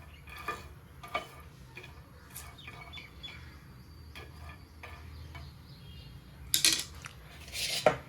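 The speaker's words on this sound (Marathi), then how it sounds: "तर इथं आपण अगोदर घेऊया शेंगदाणे भाजून" Peanuts dry-roasting in a pan, giving scattered small ticks and clinks against metal with a few louder rattling bursts near the end, fairly quiet with no talk.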